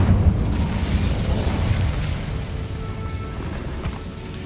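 An Incendio fire spell in Hogwarts Legacy erupts in a deep, rumbling blast that stays loud and churning throughout before slowly easing off, with no voices over it.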